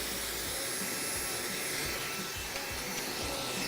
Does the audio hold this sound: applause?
no